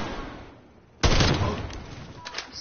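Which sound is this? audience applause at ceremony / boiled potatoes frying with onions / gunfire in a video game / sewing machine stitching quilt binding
gunfire in a video game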